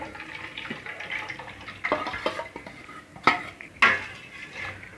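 Tamarind water and cooked toor dal are stirred into rasam in a metal pot, with a spoon scraping and clinking against the sides and a few sharper knocks near the end, close by and without talk.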